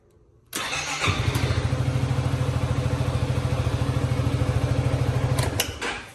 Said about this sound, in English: you can just turn the bike on as normal